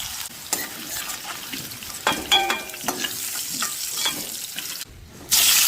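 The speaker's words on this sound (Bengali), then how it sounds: "আলুগুলোকে দেখুন একেবারে লালচে করে ভেজে নিয়েছি এবার আলুগুলোকে তুলে রাখছি" Potatoes fried deep red in hot oil sizzle steadily while they are stirred and lifted out, with a few sharp scraping clinks of the utensil against the pan up close, no talking.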